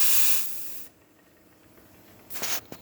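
A La Pavoni espresso machine's steam wand hisses loudly in a burst, cuts off abruptly, then after a quiet pause a second shorter hiss sputters on.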